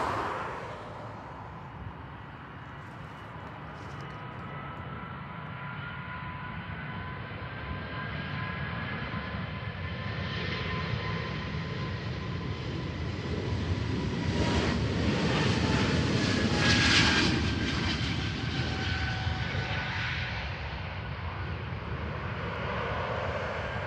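A fixed-wing passenger jet departs Portland, Maine (PWM) on a cloudy evening flight toward Tampa, its engine roar steady and sustained, swelling louder through the middle as it climbs past, with a long rising whine and no voices.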